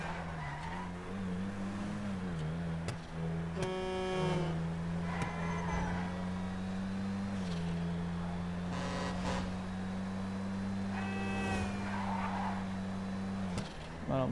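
A game car drifts in a single gear in GTA Online. A steady engine drone holds underneath while brief tire squeals rise and fall repeatedly. A voice talks faintly over it.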